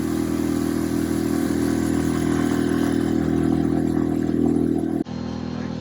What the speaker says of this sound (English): so I'm running on the little gasoline outboard